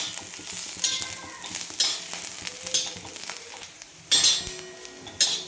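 Coconut and spices roast in a little oil in a pan for a mutton curry, giving a continuous sizzle broken by clanks and scrapes of a stirring spoon, with louder bursts near the end.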